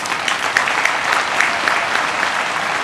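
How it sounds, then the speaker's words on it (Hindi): An audience at the Patna Sahib festival opening claps loudly, a dense, sustained wash of hand claps from a large crowd, steady and fairly close for a few seconds. "नंदकिशोर जी की बातों का बहुत जोरदार ताली बजा करके समर्थन और स्वागत"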